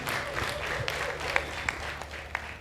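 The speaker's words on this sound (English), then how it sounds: "Let's give a big round of applause" Audience applause follows a talk at a sales masterclass workshop, a fairly soft, steady patter of many hands lasting a few seconds, with voices mixed faintly underneath.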